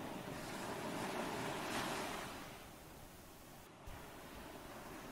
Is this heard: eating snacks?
no